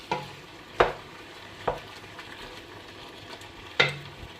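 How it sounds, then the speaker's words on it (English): Food sizzles softly in a pan as a utensil stirs it, with a few sharp scraping knocks against the pan spaced irregularly over a low frying hiss. "give it a nice stir."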